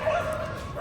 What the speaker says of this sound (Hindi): कुत्तों का आवाज़ सुनिए